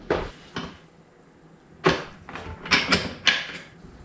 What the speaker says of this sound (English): So you attach it to the hinges.